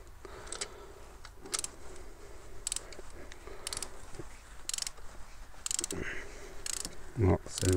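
Ratchet wrench tightening new spark plugs into an engine, giving bursts of quick clicking ratchet strokes spaced through the clip over a low mechanical background, close and moderately loud, with no talking.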